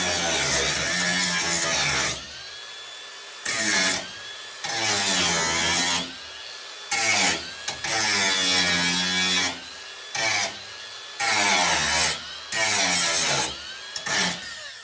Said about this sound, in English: I think I'm about to do some more grinding or something here